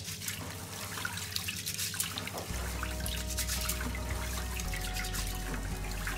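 Water runs from a tap, splashing and trickling into a vessel as sushi rice is rinsed and swished by hand; the flow grows fuller partway through.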